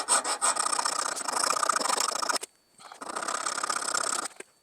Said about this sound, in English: I'm just going to finish up this sharpening choil.